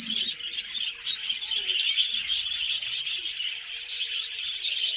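Budgerigars, sold as pets from a home in Jharkhali in the Sundarbans, chirp and twitter continuously in a busy, close chorus of rapid high tweets.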